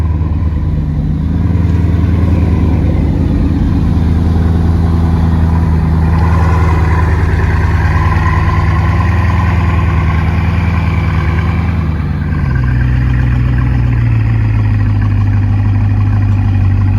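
Bugatti Chiron Pur Sport engine running: a loud, continuous low rumble with gentle swells as the revs rise, then dropping to a steadier idle tone near the end, close by.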